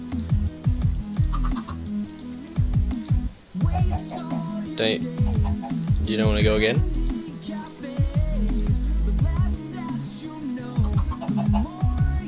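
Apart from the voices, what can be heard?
chickens clucking in Minecraft video game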